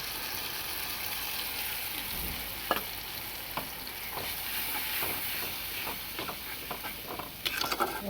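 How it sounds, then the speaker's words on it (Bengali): Spice paste for fish curry sizzles gently in hot oil, a soft continuous hiss broken by scattered spoon scrapes and taps against the pan, quieter at first and busier toward the end, nobody talking. "মশলাটা ভালো করে কষিয়ে নেব"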